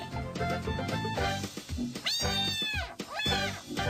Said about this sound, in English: there's a kitty in her pipes